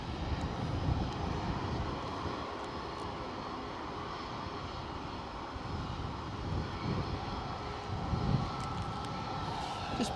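A WestJet airliner at Edinburgh airport, its engine roar a steady broadband rumble held at an even level throughout, moderately distant with light wind noise.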